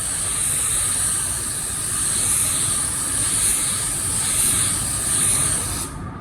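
An automotive spray gun lays down a coat of paint in a repair area, a loud steady hiss of air and atomised paint that carries on unbroken before cutting off near the end.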